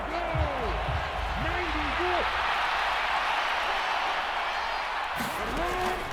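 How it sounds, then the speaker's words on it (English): Stadium crowd in an American football video game, a broad steady roar of applause and cheering at a distance, with a commentator talking over it and a brief swell near the end. "How about some applause for the defense there?"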